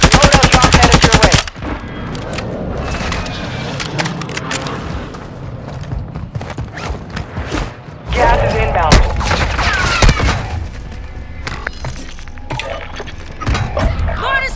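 Video game gunfire rattles in a dense, loud burst at the start, then continues as scattered shots and bursts under a busy battle mix through the rest, with short radio-style voices talking over it.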